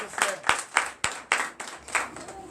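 A church congregation at a Sunday service in Comè, Benin claps in steady rhythm, about nine sharp, evenly spaced claps, close and fairly loud, with a faint voice in the background.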